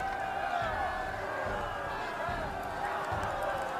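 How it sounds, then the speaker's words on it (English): A crowd cheers at a royal coronation in the Pathfinder Kingmaker video game, a low, steady murmur of many voices beneath a sustained musical tone, fairly faint and even throughout. "Everyone is cheering."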